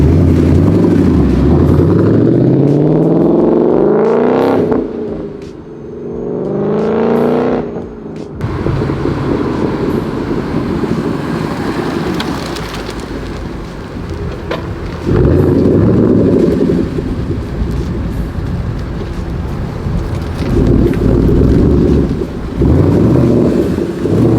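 Ford Mustang S197 pulling up with its engine revving, deep rumbling throttle blips rising and falling in several bursts, loud and close, with the idle growl filling the gaps between revs.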